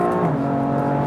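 A BMW M car engine roars at high revs on a race track, its pitch climbing slightly as it pulls hard, loud and close.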